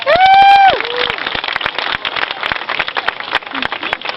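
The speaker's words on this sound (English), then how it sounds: "Give a round of applause." A small crowd outdoors applauds a water ski show at a lake after a slalom run, giving scattered, sparse claps that follow a brief high whistling tone at the start.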